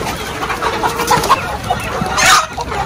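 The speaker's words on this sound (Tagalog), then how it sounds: "Nagugutom na po yung ating mga alagang manok." Several hens cluck and murmur in a busy flock in a chicken coop in General Santos City, close by, with a brief louder squawk toward the end over steady barnyard background.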